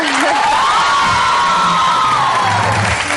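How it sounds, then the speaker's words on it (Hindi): Studio audience on a live morning TV show cheering loudly, a sustained roar of crowd voices with a long rising and falling whoop on top, close and continuous with little distinct clapping. "तो सबसे पहले इनके लिए बहुत सारी तालियां"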